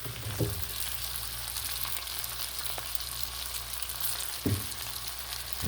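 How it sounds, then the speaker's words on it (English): Fresh potato coins sizzling in hot oil, with a steady, dense frying hiss throughout and a few brief clicks or taps of handling; close and moderately loud, no voices. "See if that oil hot. Throw a little corn of that in there."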